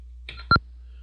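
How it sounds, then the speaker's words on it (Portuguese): Grafivox drawing software gives a single short electronic confirmation beep, clear and isolated after a faint click or key press, then silence. "Esse bipzinho significa que tá desenhado."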